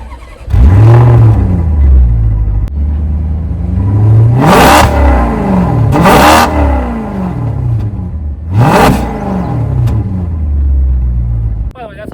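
A stock 2011 Maserati Quattroporte S with its 4.7-liter V8 rumbles at a loud idle, then bursts into three sharp revs that rise and fall, each throttle blip snarling before settling back to a steady burble.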